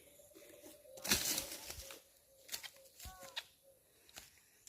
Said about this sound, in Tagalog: Humuhuni yung ibon. Tawag sa ibon na yan ay kuro-kuro.